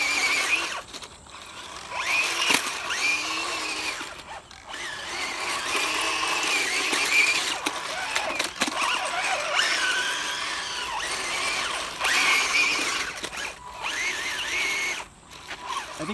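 A 1:12 scale RUKO Q111 RC military assault tank runs at full speed on rough ground, its small electric motors giving a close, strained high whine with grinding tracks that surges and dips throughout.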